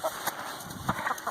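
A backyard chicken clucks in a flock, soft irregular clucks and short calls close by, spaced unevenly over low outdoor background noise.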